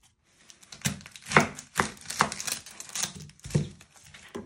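A knife chops the ends off an onion on a board, several sharp separate thuds spaced irregularly, close and distinct, with no talking.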